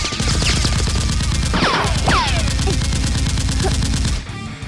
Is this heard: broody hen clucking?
no